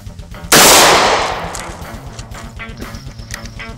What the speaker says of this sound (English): We'll be firing one shot out of here.